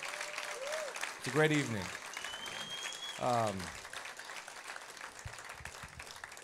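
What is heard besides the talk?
audience applause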